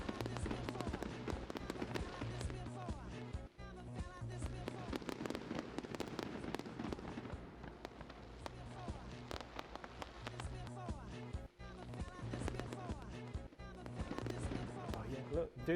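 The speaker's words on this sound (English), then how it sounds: "He's bringing the fireworks when he does his hand." Synthesized fireworks effect from a camera-tracking colour mixer played loud, a dense continuous crackle of bangs and sparkles with steady tonal music-like layers underneath, voices talking faintly over it.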